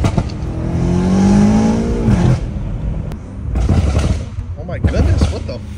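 BMW M3 Competition fitted with downpipes revs hard and accelerates, a loud, close engine roar rising then dropping, followed by bursts of throttle with crackles.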